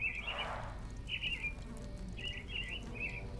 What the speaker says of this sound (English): I could hear birds.